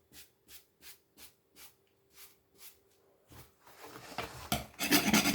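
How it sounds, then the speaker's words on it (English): A scraper dragging dirt off a ceramic glass hob stovetop, about ten short evenly spaced rasping strokes followed by louder, faster continuous scraping, close up and without talk. "as I scrape off the dirt, the white lines keep appearing"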